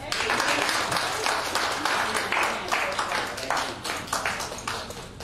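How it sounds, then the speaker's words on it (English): A church congregation claps in uneven bursts, a close, bright flurry of hands that rises and fades, while a voice keeps talking over the clapping. "Let's give him just a hand clap."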